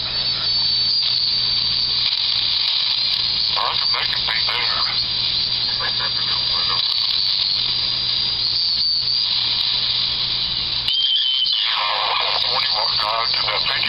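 One-tube regenerative radio receiver while its antenna trimmer is adjusted, giving a steady band-limited hiss and static with shifting whistles and tones. A voice talks faintly under the noise.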